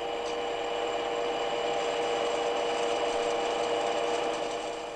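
A metal lathe cutting a rotating workpiece: a steady, close mechanical whine and hum with a grinding edge, held constant and unbroken throughout.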